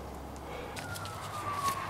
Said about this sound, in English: You can hear the sirens everywhere.